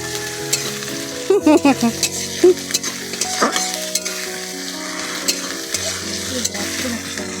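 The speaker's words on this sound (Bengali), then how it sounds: "এখন আমি দেব আদা রসুনের বাটা" Ginger-garlic paste frying in a pan after browned onions for a hilsa fish dish, with a steady close sizzle broken by bursts of scraping stirs and clatter.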